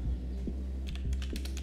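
Rapid, light keystrokes on a computer keyboard, a brisk run of clicks close to the microphone over a low background hum, with no talking.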